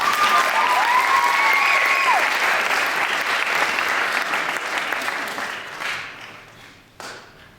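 A crowd at a high school hypnosis show at a winter dance gives a big round of applause, loud and dense at first and then fading away, with a faint whistle near the start.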